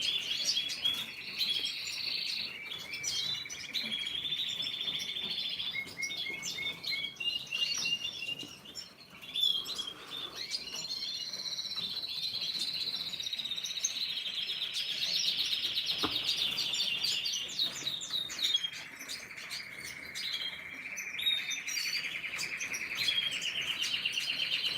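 Cardinal birds chirping steadily, with bright repeated tweets and calls that continue without pause, fairly close and clear against a quiet background and with no voices.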